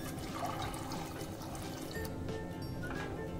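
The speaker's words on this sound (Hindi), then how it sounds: "पानी डाल के इसे मिक्स कर दें।" Water being poured into a pot of ragda with soaked peas, salt and spices, a steady close gurgling pour with no talk.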